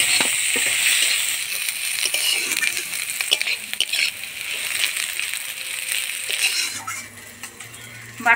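Onion, garlic and green chili sizzle with shrimp in a pan, a steady frying hiss with stirring scrapes and occasional clinks of utensil against the pot throughout.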